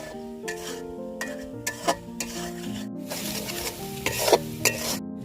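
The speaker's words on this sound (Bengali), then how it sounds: "মরিচের গুঁড়া হলুদের গুঁড়া ধনিয়ার গুঁড়া লবণ মশলাটা ভালোভাবে কষিয়ে নিব" Chilli, turmeric and coriander powder masala with salt is stirred and fried for a country chicken curry, with repeated spatula scrapes and a soft sizzle under steady background music.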